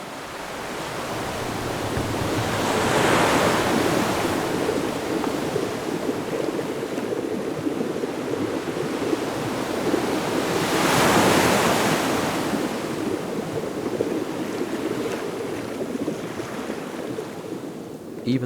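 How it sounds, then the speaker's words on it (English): Ocean waves at high tide crash against a rocky shore in two big surges, swelling into loud, close roaring washes of surf over a constant windy rush. "At high tide, the ocean batters the landscape with immense force."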